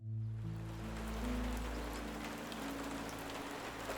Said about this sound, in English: So the next day was very rainy